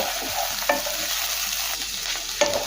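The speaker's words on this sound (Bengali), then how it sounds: "আবারও 2 মিনিট একটু ভেজে নেব।" Constant hissing sizzle of mixed vegetables and frozen peas frying in a pan for vegetable pulao, broken by a few clanks and scrapes of a spatula stirring.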